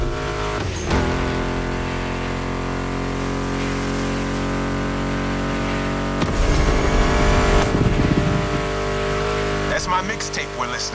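Ford Mustang muscle car engines roar in The Crew Motorfest racing game, a sustained loud drone with shifts and bursts of revving, under a music soundtrack and a voice talking.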